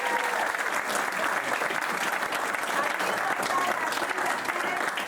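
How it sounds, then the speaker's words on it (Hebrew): Steady, dense applause from a crowd of parents at a kindergarten graduation party, with sustained clapping that stays loud and even throughout and has no talking over it. "שכולנו צריכים למחוא כפיים זה לילדים"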